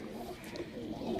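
Pigeon cooing softly in the background, a brief low murmuring coo amid faint ambient noise.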